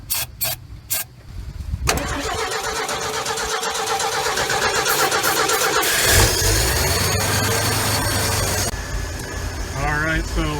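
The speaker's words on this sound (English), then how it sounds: "Give her a little help here, cranking kind of slow, so if we can get it kind of lit off" A 1968 Ford F100 that sat forgotten in the woods for 20 years cranks slowly after a few short bursts, then fires and settles into a loud, rough, steady run close by.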